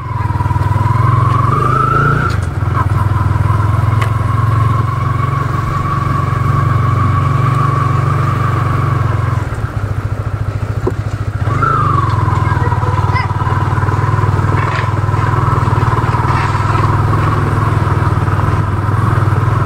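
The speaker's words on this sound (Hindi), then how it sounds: "तो फिलहाल बाइक को निकाल लेते हैं।" A motorcycle engine runs steadily and loudly nearby, a constant droning hum that dips briefly partway through before settling back to the same even note.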